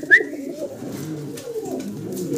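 A male pigeon coos close by in a low, rolling, repeated call after a brief higher chirp at the start.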